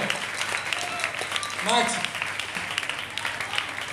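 Applause from a concert crowd for the maestro and band rolls on under a presenter's voice, a moderate clapping texture with scattered cheers, while someone speaks briefly over it in the middle.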